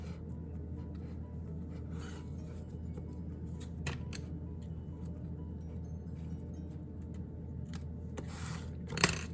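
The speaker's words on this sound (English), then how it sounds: "I snipped some of this and see about where I need to cut." Scissors snip pearl wrap trim for Dollar Tree winter craft decor, a few faint close cuts and rustles over a steady background hum, with one louder snip near the end and no talk.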